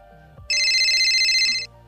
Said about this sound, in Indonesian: Panggilan telepon dari Dito, sahabat Reno, tiba-tiba memecah suasana